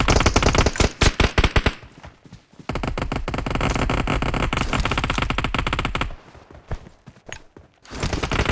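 Rapid gunfire fills a PUBG 6v6 match, with dense automatic bursts and sharp single shots coming in loud clusters and broken by a few short pauses.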